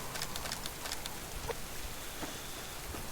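Rainfall in the survival video game Subsistence, a quiet, steady patter with scattered sharper droplet ticks throughout.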